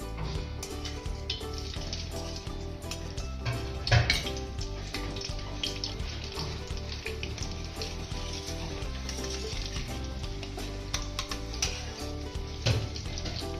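Butter added to hot oil in a pan for pav bhaji, a loud continuous sizzle and crackle close by, with a couple of louder bursts and faint clatter underneath.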